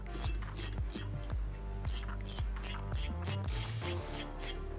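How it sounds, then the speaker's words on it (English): Rapid ratchet wrench clicks as factory nuts are tightened on the suspension of a 2010-2014 Ford F-150 Raptor with a 15 mm socket, a close, loud series of bursts with short pauses between strokes. "Tighten it down with a 15 wrench or socket."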